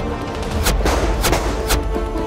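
Movie gunfire between two gunmen, with several sharp shots cracking over a dense, loud background of continuous rumble and noise.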